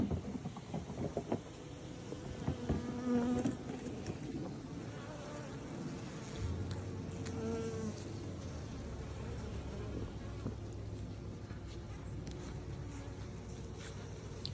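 Steady insect buzzing from many bees at a sugar-water feeder, a continuous drone with a low hum underneath, constant and moderately close.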